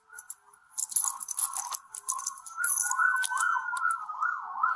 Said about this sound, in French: Éteins ta sirène.